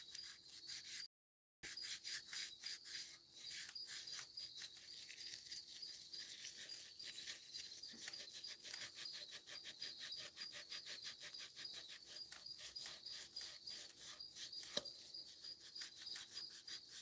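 Old gasket remnants are scraped off the cylinder head of a 1996–2005 Chevy Astro / GMC Safari van in quick, repeated close-up strokes that run steadily throughout with only a brief pause near the start.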